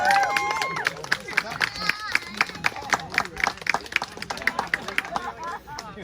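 Wedding guests at an outdoor campground ceremony break into applause, a close burst of many hands clapping in a dense, uneven rhythm that thins out over several seconds, with cheers and chatter mixed in.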